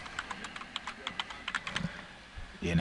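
Typing on a computer keyboard while entering a labor rate, a run of quick, uneven clicking keystrokes at close range with brief pauses, ending in a louder thump.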